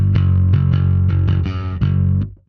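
An electric bass runs through a Sonicake Matribox II Pro multi-effects processor with a drive effect set to lower gain and higher blend, producing a thick, loud, distorted riff of repeated plucked notes that ends in a decaying final note.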